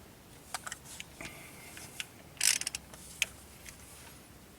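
A ratchet wrench snugs down the steering wheel bolt on a Honda Accord, giving soft, scattered clicks and a brief rapid burst of ratcheting in the middle, close and fairly quiet with no talking.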